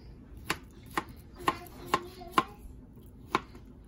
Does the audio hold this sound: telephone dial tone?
no